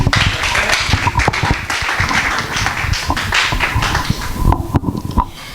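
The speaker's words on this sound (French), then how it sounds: "on acclame très fort" Church audience at a singles' meeting with a pastor clapping and cheering loudly, dense continuous applause with sharp hand claps running throughout.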